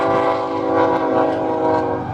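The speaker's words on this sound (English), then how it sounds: "And there's our beautiful train coming by." A train rolls past a Quonset hut along Route 66 at Bluewater, near Grants, New Mexico, loud and close with a steady rumble and sustained horn-like tones across the whole stretch, no voices over it.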